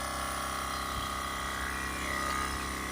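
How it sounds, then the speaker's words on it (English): Battery-powered Milwaukee air compressor running steadily on a DPF cleaning job for a BMW 525d, a constant high motor whine with a low pump drone, close and alone for the whole stretch. "It's a battery operated Milwaukee compressor,"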